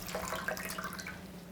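Tap water runs over napa cabbage being rinsed for kimchi, a soft, close splashing and trickling with a faint steady hum beneath, brief and fairly quiet with no voices.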